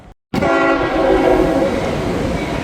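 A CSX freight train's horn blares loudly and steadily up close as the heavy train rumbles past, wheels droning underneath.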